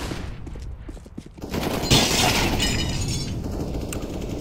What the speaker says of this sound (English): Deploying flash.